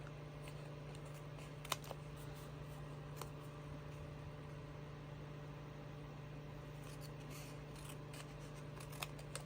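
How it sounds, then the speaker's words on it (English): Faint, occasional sharp snips of scissors trimming excess paper off a small artist trading card, heard against a steady low hum with long quiet gaps between cuts. "Cut the excess off of it."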